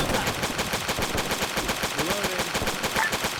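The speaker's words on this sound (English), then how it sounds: "Are the enemies shooting at us from two different directions?" Enemy soldiers fire in a WW2 combat game set in Ethiopia, with continuous fast machine-gun bursts rattling throughout and a voice briefly audible under the shooting.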